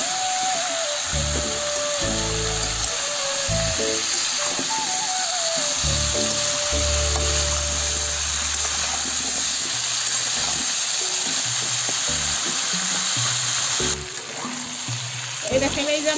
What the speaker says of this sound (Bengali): এই যে আমার সবজিটা ভালো করে ভাজা হয়ে গেছে